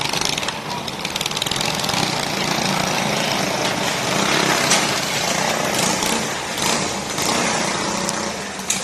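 Outlaw racing karts at Ohsweken Speedway keep their small engines running loud and close in a continuous high buzzing drone that rises and dips slightly.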